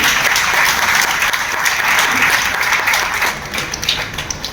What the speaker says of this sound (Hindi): उसके लिए भी ताली होगी